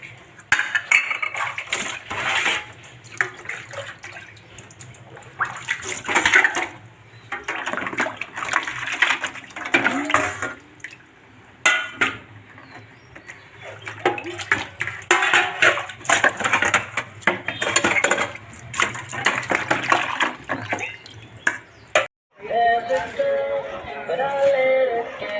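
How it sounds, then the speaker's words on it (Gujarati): Utensils, dishes and pots being washed clatter and clink repeatedly with splashing water, near and busy, while a person talks throughout. "હવે વાસણને ઉટકી લીધું"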